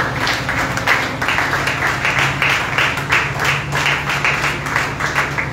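A congregation at a Christian women's prayer meeting claps and acclaims the Lord with steady, dense applause sustained throughout, loud and close, with a low hum and faint voices underneath.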